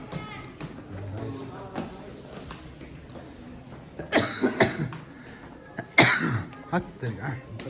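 A person coughs in several harsh bursts at a view tower in Sarangkot, Pokhara, the loudest coming about halfway through and again near the end, with voices and outdoor background noise around them.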